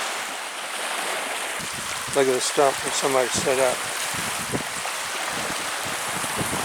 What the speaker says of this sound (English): See a little stream coming in.